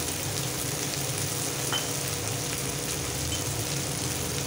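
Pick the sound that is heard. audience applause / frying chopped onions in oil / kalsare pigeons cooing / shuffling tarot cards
frying chopped onions in oil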